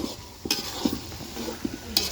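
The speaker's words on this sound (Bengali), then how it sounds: "এই যে আমার পেঁয়াজটা ভাজা ভাজা হয়ে গেছে" Chopped onions with bay leaves and cardamom sizzle softly in hot oil for a large batch of chicken biryani while a spoon scrapes and stirs the pan in quick, irregular strokes close by.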